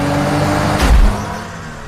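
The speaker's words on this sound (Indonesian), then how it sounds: "Dia dengan sengaja menabrak mobil korbannya." A car engine surges and revs as one car deliberately rams another in a film scene, a loud low roar swelling and fading within a couple of seconds.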